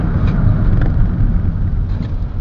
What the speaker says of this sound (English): If I do a brake test now, I'm doing 50 miles an hour. I'm not going to do an emergency stop, I'm just going to brake firmly.